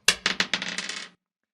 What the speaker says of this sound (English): so I'll roll the dice again